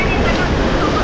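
Sea waves crash against rocks on the Goa coast and spray upward, a loud, continuous roaring wash of surf up close with no clear breaks between surges.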